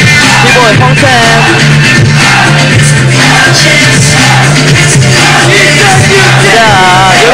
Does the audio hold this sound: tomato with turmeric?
no